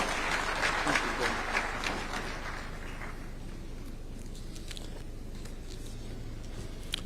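An audience in Kenya applauds the chairman at a public event, a dense burst of clapping that fades after a few seconds into a quieter murmur of the crowd.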